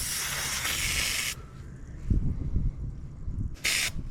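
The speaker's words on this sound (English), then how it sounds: "let's get like a couple of test sprays" Two sharp hissing bursts from an aerosol can of Fluid Film undercoating, a long spray then a brief second one, with some handling clatter between.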